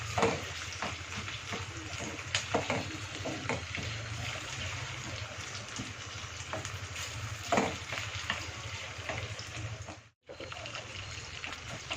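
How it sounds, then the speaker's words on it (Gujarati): Potatoes frying in hot oil for a Gujarati sabudana khichdi, a steady dense sizzle that carries on for about twelve seconds with faint stirring clicks, cutting out briefly near the end before resuming. "આ બટાકાને આપણે તેલમાં ફ્રાય કરવાના છે"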